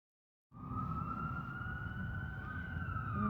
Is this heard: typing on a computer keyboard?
no